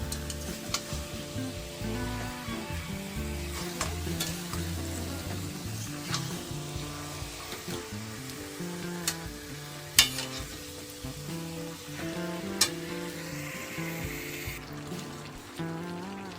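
Marinated chicken sizzles and spits in a hot pan in a village kitchen, a steady frying hiss broken by occasional stirring clatter and sharp pops, loud and close.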